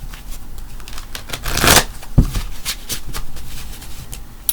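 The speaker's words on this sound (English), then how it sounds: "my cards have all been pre-shuffled, but I always like to reshuffle them when I have you here" A deck of tarot cards is reshuffled by hand during a reading, giving bursts of riffling and flapping card noise with one sharper snap partway through, close and fairly loud, with no talking.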